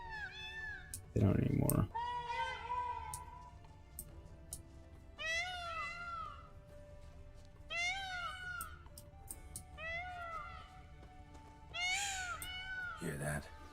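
Peacocks in The Witcher 3 give repeated cat-like meows and wails, several rising-falling calls spaced across the scene over a steady ambient background, with a short burst of talk near the start.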